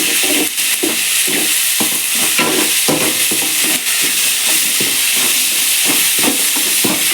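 Onions and tomatoes sauté in a pan for chapati kurma, lightly salted, giving a loud, continuous close-up sizzle and hiss with regular stirring scrapes and clatters throughout.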